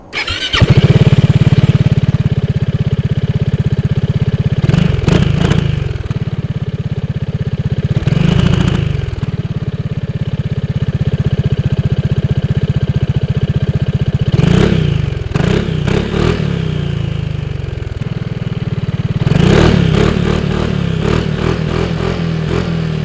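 A 2023 Kymco XCiting VS 400 scooter engine runs close and loud, idling with a steady low burble broken by several sharp clattering blips and throttle bursts, with no talking.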